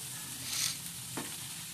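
Bottle gourd peels sizzle in hot oil with onion, a dried chili, turmeric and salt, a steady close fry broken by two quick scraping stirs.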